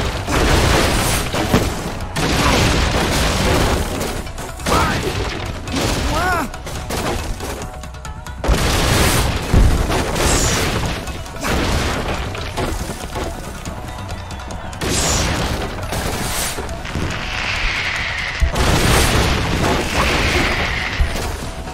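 Rocket explosions in the Xbox 360 Kung Fu Panda game: a long run of booms, crashes and thuds hits again and again at close range, loud and dense, with whooshing effects between blasts.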